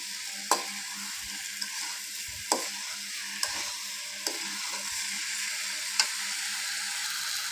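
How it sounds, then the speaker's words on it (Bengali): Soaked red lentils and mixed vegetables stirred in a frying pan for a Bengali mixed-vegetable dish, giving a steady sizzle with several sharp spoon scrapes and knocks at irregular intervals, close and without talk. "ডালটা দিয়ে আমি একটু নেড়ে চেড়ে নেব"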